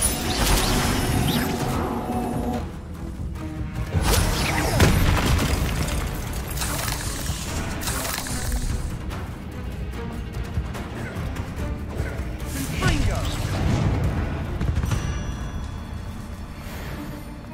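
Confringo and Incendio spell blasts in the video game Hogwarts Legacy, a dense run of booming, crashing bursts and fiery whooshes that follow one another almost without pause, loud and close throughout.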